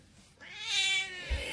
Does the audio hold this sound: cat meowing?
yes